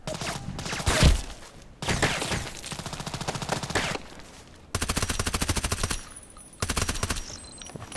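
Bursts of rapid gunfire from the shooter game Contract Wars, fired in triple-shot mode, crack out in several distinct loud volleys separated by brief pauses, each burst a tight rattling string of shots.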